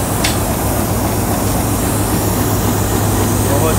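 Freshly painted and decorated locomotive 8309 at Mandi Bahauddin railway station: a loud, steady diesel engine rumble with a constant low drone and broadband noise throughout, while voices talk nearby.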